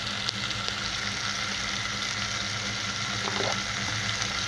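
Shrimp sizzle lightly in a pan with a little salt, a steady, close frying hiss that carries on evenly with no voices.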